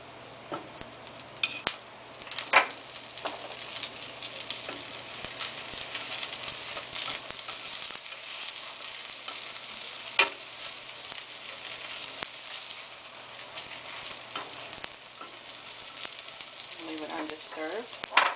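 French toast fries in butter in a pan, a steady close sizzle with occasional pops and scrapes running throughout the whole stretch.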